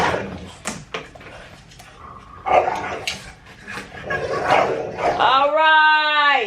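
An excited dog yips and barks in a nearly empty apartment, short sharp cries mixed with a person talking, ending in a run of high whining barks.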